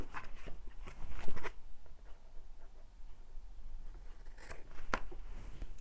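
Scissors snip through paper while making Christmas tag-shaped pockets for a junk journal, with a quick cluster of close, crisp cuts at the start, then a quieter pause and a few more snips near the end.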